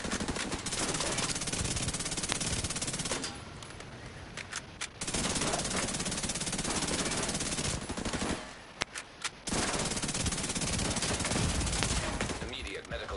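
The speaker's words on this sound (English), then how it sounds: "He's shooting me where you shouldn't be shooting me" Automatic weapons fire in the shooter game The Division 2, long sustained bursts with brief pauses, loud and dense, with voices talking over it.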